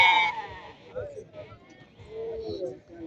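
Lambs bleating at a sheep market in Barda, with several short bleats under a busy crowd of people talking nearby.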